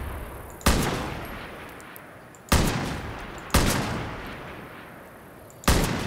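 Gunfire at a grandmother's shooting range in Far Cry New Dawn: four loud, sharp shots spaced a second or more apart, each trailing off in a long echoing decay, with no talking.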